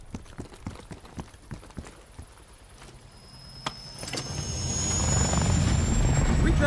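Rhythmic thumping gives way to a rising, roaring helicopter engine whine that swells louder toward the end, in the video game Call of Duty: Black Ops Cold War.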